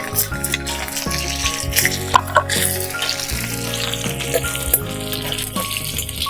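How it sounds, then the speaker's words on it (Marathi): Mustard seeds, cumin, finely chopped garlic and chili sizzle and crackle in hot oil, a loud, steady fry with sharp popping and spattering throughout. "चला तेल गरम झालं. थोडीशी मोहरी, थोडेसे जिरे, त्याच्यानंतर बारीक चिरलेलं लसूण आणि मिरची."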